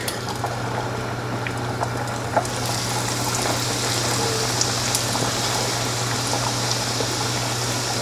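Chicken frying in oil preheated to about 350 degrees, a steady close crackle and hiss of bubbling oil running unbroken throughout, with no voices over it.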